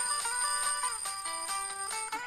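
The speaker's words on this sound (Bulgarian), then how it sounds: "Ето така звъни един будилник." A mechanical alarm clock rings as its little hammer beats rapidly on the bells, a bright, steady metallic trill of repeated strikes over a couple of seconds, close and alone.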